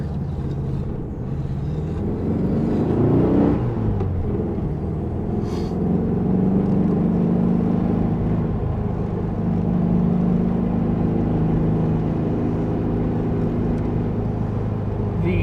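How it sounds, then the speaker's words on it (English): A 1972 Volkswagen Super Beetle engine runs at a high idle, a steady close rumble with a droning mid-pitched tone that rises and shifts slightly in places over about fifteen seconds. "It's idling very high."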